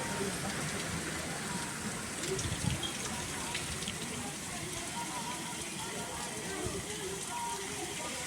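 Water rushes strongly down a hillside on a trek near Tirupati, making a continuous broadband gushing roar at moderate level, steady for the whole stretch.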